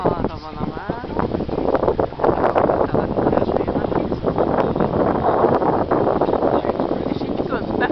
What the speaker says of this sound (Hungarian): És egyre jobban fúj a szél.